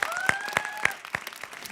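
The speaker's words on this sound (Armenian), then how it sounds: "Եկեք շնորհակալություն հայտնենք եւ ծափարենք կասկածելի յուրին։" Brief applause from an audience at a comedy game show, a handful of sharp claps over a quieter crowd, with a light tonal whistle-like tone running alongside.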